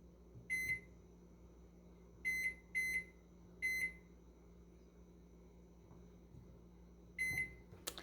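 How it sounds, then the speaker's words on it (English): A Commercial Chef countertop microwave oven emits short high-pitched electronic beeps, five spaced single tones and a final one, prompting the clock to be set, clear and close in a quiet kitchen. "Now it's beeping, telling me to set the clock."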